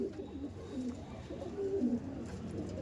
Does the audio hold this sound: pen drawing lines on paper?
no